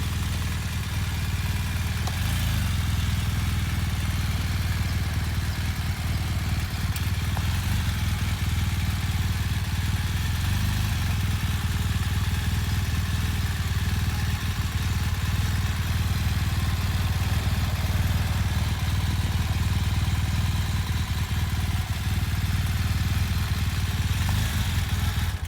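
Motorcycle rolling at low speed with the clutch worked and almost no throttle, a steady mid-pitched engine hum with light mechanical clatter held for about twenty-five seconds, with no voices.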